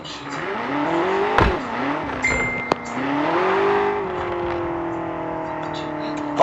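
Car engine accelerating hard to 100 km/h, a rising drone that climbs through gear changes with brief dips and recovers, steady and close inside the cabin.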